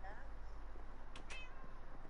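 Cats meow in the block-building game Minecraft, two short mews close together partway through, faint against a steady low background hum.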